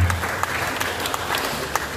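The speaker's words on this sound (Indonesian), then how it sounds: "Tepuk tangan buat kita semua." Applause fills a village officials' inauguration ceremony, a crowd clapping continuously at moderate volume with a few sharper claps standing out, heard from within the room.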